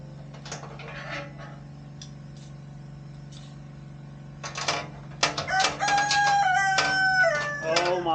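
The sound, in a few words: rooster crowing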